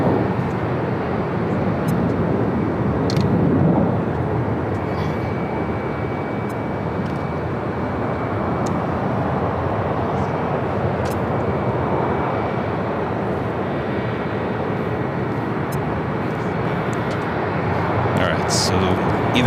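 Delta flight 742, a jet airliner, landing on runway 25 left at LAX: a loud, continuous engine roar that holds steady throughout, with faint muffled voices under it.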